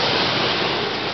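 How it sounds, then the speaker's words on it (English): A wave power turbine spinning fast gives a brief, loud, broadband rushing roar close by, steady throughout with no voices. "that sound is our turbines"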